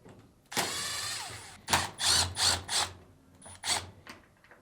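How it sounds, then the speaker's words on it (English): A power screwdriver removes Phillips screws from a Fisher & Paykel top load dryer, with one long whirring run followed by several short bursts and faint clicks, close up and alone. "Now remove the two Phillips screws."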